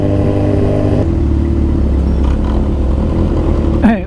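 A Kawasaki Z1000 motorcycle engine drones loud and close while riding on a road, with a steady low hum that shifts pitch once and briefly revs near the end.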